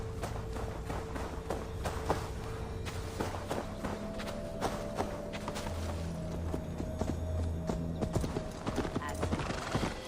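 Horse hooves clip-clopping steadily through an untamed Gloucestershire forest in Assassin's Creed Valhalla, a continuous brisk rhythm of close hoofbeats over a dense ambient bed with occasional snorts.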